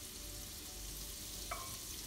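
Margarine frying in a pan, a steady soft sizzle with a brief clink or scrape partway through.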